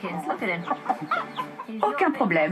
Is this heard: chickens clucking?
yes